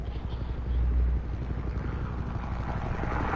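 A helicopter in the Batman: The Telltale Series video game, set over Gotham, gives a steady low rotor thrum with a rapid, even chop, holding at a constant level throughout without voices.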